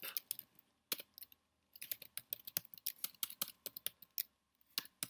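Python code being typed on a computer keyboard: quick bursts of crisp key clicks in uneven runs separated by short pauses, close and clear with no talking.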